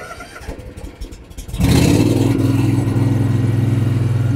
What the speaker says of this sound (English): now I'll go ahead and start it up so you guys can hear how the mower sounds